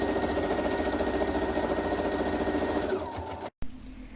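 A sewing machine stitching canvas, a fast steady mechanical whir up close that slows and winds down near the end before stopping, followed by a faint hum.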